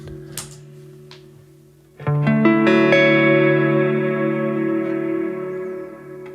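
Electric guitar played through an Electro-Harmonix Soul Food overdrive pedal, a quiet lingering note followed by a sudden strummed chord that rings out thick and sustained, slowly fading.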